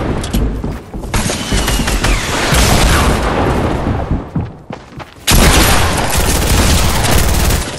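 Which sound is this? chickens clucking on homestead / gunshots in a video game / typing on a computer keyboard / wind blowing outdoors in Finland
gunshots in a video game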